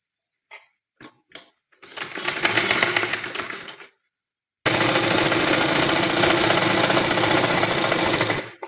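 A sewing machine stitches an umbrella dress, first with a few clicks, then a short loud whirring run, a pause, and a long continuous burst of stitching.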